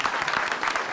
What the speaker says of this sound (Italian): facciamo un applauso fortissimo colui che ha messo al mondo Luciana